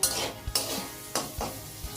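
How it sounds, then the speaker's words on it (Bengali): Potatoes and capsicum fry in a pan, with a utensil stirring and scraping in a few distinct strokes over a steady close sizzle. "তো এইদিকে ভাজা আমার কিন্তু হয়ে এসছে"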